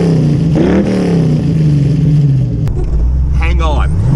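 1932 Ford Deuce Roadster hot rod accelerating hard, engine roaring loud and close with rising pitch sweeps through the gears, a brief shift dip, then climbing again under speech in the cabin.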